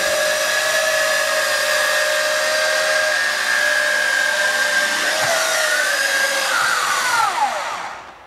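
Wltoys V262 drone's rotors spin at a steady high whine with rushing air, loud and close for about seven seconds, the pitch sliding downward as they spin down at the end.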